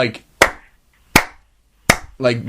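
Three sharp, isolated hand claps ring out at a fight, each a single crisp snap separated by long silent gaps, close and distinct, with brief speech just before the first clap and after the last.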